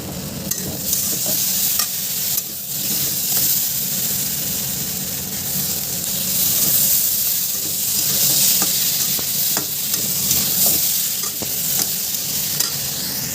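Asafoetida hits hot oil along with spices in a home kitchen pan, giving a steady, loud sizzle and hiss with stirring scrapes over it, close up, and nobody speaks.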